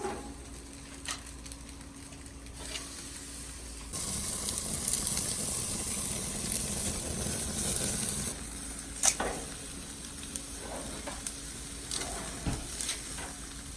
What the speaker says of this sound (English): we gotta sear these now